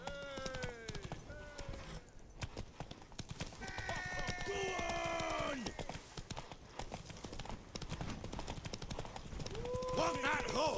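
Horse hooves clip-clop rapidly in a galloping rhythm in The Witcher 3, running throughout at moderate loudness beneath game character voices, with whinnies and other game sounds mixed in.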